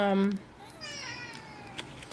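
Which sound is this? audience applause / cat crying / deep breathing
cat crying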